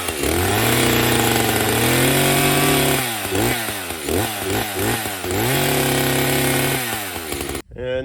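ECHO CS-590 Timberwolf 24-inch chainsaw running right after starting, loud and close, its two-stroke engine revving up and dropping back in repeated throttle blips before it cuts out sharply at the end.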